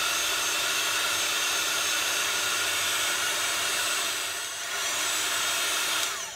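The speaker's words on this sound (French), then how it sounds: "Donc on prend un petit séchoir ou un petit appareil pour sécher." A small handheld dryer blows over varnish-glue on a handmade phone holder for a double socket, a continuous close whirring hiss with a slight dip and shift in pitch toward the end.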